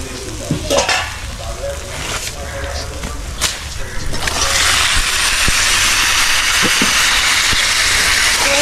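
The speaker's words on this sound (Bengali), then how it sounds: "এবার আমি ঢেকে রাখা মাংসটি এবার দিয়ে দেবো।" Chicken goes into hot fried masala for a Bengali chicken korma: a few stirring scrapes, then a loud, steady sizzle of frying that fills the rest, with no talk.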